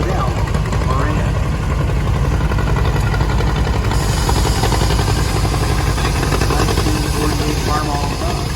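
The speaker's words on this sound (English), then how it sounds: "1958, John Deere Model 520, owned by Jim Liddell, Moran." A 1958 John Deere Model 520 tractor rolls past in an antique machinery parade, its engine a loud, steady low rumble with rapid pulsing throughout, under an announcer's voice.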